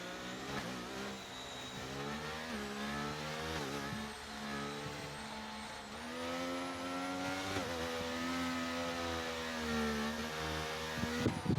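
Race cars roar through a racing video game's Canada circuit, engines revving and shifting pitch continuously with tire squeal, loud and sustained with no talk over it.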